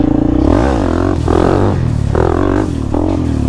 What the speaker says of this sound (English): See if we can do a little bit of wheelie action out here.